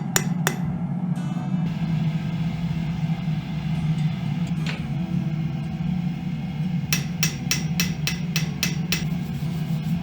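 A blacksmith hammers a knife blade at the anvil: a few sharp metallic strikes, then a rapid run of evenly spaced ringing blows near the end, all over a steady roar of forge background.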